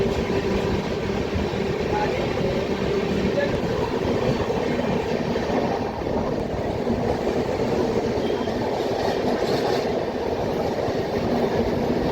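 Steady low rumble of the Ganga Kaveri Express rolling along the tracks in a general-class coach, continuous and fairly loud throughout, with faint clatter and possible voices in the background.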